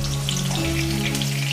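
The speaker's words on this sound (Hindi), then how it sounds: "और पनीर को हम लाइट ब्राउन कर लिए हैं" Paneer cubes fry in an oil-filled pan for chilli paneer, a steady close sizzle and crackle holding evenly throughout over a low constant hum.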